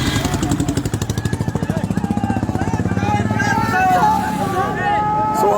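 Tractors rolling through a farmers' tractor rally give off a rapid, pulsing engine chug up close, with a crowd murmuring and calling out over it.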